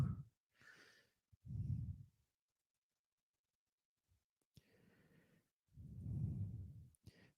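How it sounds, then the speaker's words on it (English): A man snoring while passed out, heard as a few deep, rough low-pitched breaths with silent gaps between them, fairly close and with no talking. "When you heard that snoring"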